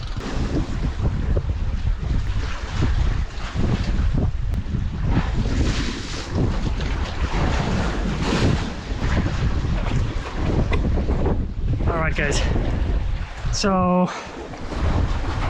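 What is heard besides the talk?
wind at sea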